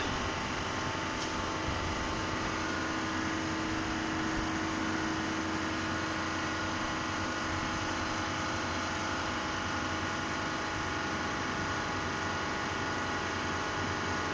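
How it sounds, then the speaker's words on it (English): Hydraulic pump of a universal testing machine runs during a shear test on metal, a steady low mechanical hum and drone that holds constant and moderately quiet for the whole stretch, with no voices. "Starting hydraulic pump here."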